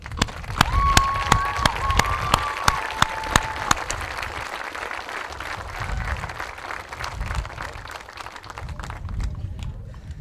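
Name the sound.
round of applause for athletes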